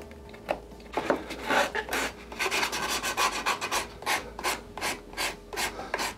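Sandpaper rasps against dried, overlapped filler on a scratch-built model, in repeated short back-and-forth strokes, close and fairly quiet with an uneven rhythm.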